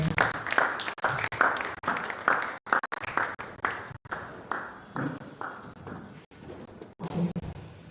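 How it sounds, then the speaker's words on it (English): At a tech bootcamp, a modest audience applauds a speaker with scattered, distinct claps that come in uneven bursts with short gaps, moderately near and gradually thinning out. "can we give him a round of applause as he comes"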